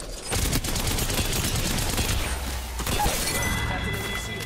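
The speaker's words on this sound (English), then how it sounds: "Stop shooting each other." Dense gunfire in a solo-mode video game match, a continuous crackling barrage of overlapping shots with loud sharp bursts at the start and middle.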